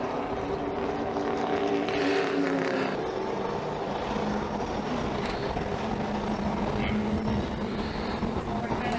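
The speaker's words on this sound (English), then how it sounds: "Cars come to life down the front straightaway." A field of short-track race cars accelerating together on a restart at Sunset Speedway, a continuous dense engine roar that stays loud and rumbling throughout.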